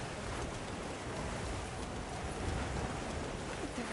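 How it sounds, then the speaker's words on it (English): Heavy rain pours down steadily in a Monster Hunter Wilds downpour, a dense, even roar of drops with no breaks and no voices. "The rain's really coming down."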